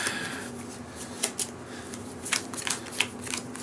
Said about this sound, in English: I believe I just shuffled the deck